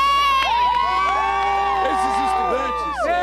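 A large crowd of young university students and war veterans cheers and shouts together in relief over Osama bin Laden's death, a loud continuous roar with whoops and whistles from close by.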